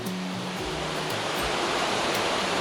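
Rushing water roars steadily, a dense broadband wash of a waterfall near Agness, Oregon, swollen by heavy rain, heard close by, with a faint low hum underneath.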